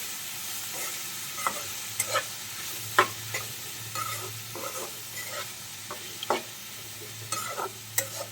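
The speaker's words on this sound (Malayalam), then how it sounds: "നന്നായിട്ടൊന്ന് ഇളക്കി കൊടുക്കാം" Chow chow (chayote) stir fry is stirred with salt in a pan, with a low steady sizzle under repeated sharp spatula scrapes and knocks at an uneven rhythm, close and unaccompanied by speech.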